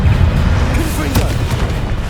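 A Confringo blast spell in Hogwarts Legacy lands as a deep, booming impact over rumbling battle noise, with a sharp crack near the middle.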